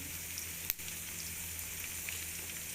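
Chopped green chilies sizzle steadily in oil with browned onions, a close, even frying hiss with one brief sharp crackle partway through and no talking.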